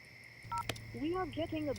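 A telephone is dialed amid a tense conversation, with a short burst of keypad tones over a steady background hum, followed immediately by a voice speaking.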